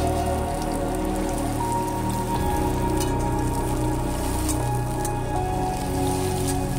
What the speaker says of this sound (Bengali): আলু পটলগুলোকে ভালো করে নেড়ে লাল লাল করে ভেজে নিলাম আমি